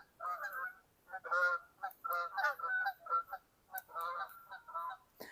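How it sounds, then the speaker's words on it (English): Canada geese honk repeatedly in overlapping, nasal calls, a noisy flock sounding at moderate distance with short gaps between bursts. "You might be able to hear the Canadian geese."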